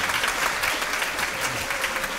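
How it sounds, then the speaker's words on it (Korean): An audience at a high school debate contest final claps in a dense, steady burst of applause that stays even and full for a couple of seconds. "박수 다시 한번 쳐주십시오"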